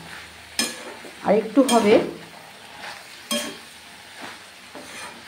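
Vegetables being stirred and sautéed in a pan for a Bengali kalia, with a close burst of scraping and sizzling followed by a few sharper stirring clatters, and a brief spoken phrase partway through.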